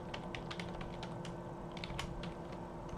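Code being typed on a computer keyboard, with quick, irregular key clicks close by and faint over a low steady room hum.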